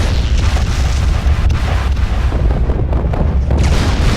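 Long-range missiles from a salvo in the game MechWarrior Living Legends burst in a dense, continuous rumble of booms, loud and close, with overlapping blasts and no gaps across the whole stretch.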